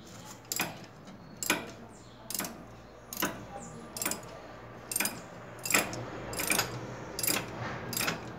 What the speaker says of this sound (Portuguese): voltando o parafuso para o lugar e apertando. Vamos estar pegando a chave aqui, encaixando no parafuso.